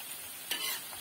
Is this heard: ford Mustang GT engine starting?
no